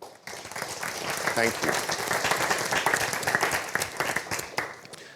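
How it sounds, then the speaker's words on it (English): A summit audience at the 2023 Case for Quality event breaks into applause that swells quickly and stays dense and steady, many hands clapping, while a speaker's voice briefly cuts through. "I'd like a round of applause for all of you."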